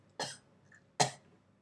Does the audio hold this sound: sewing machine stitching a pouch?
no